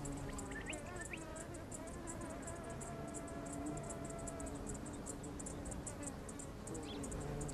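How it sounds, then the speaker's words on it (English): A long-tongued fly hovers at a deep-throated desert flower, its steady insect buzz continuous and close, joined by a regular pattern of high chirping from other insects. "Only a long-tongued fly is able to reach La Perusia's deep well of nectar."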